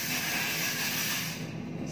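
A BB body cream is sprayed from a nozzle in a steady, close hiss that runs nearly two seconds, fading slightly toward the end, with no voices over it.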